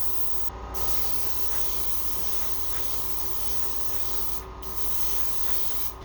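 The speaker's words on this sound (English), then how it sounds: "My airbrush just started being difficult, but thankfully this is the last color." An airbrush sprays aqua flash paint onto a spoon-headed lipless crankbait lure, a steady close hiss that cuts out briefly twice and then resumes.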